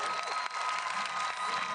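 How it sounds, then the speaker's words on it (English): Spectators at the Longines FEI World Cup show jumping in Bromont applaud Canadian rider Jen Serick on Wicked in the jump off, a steady, fairly distant wash of clapping from a large crowd. "And she's getting a big round of applause."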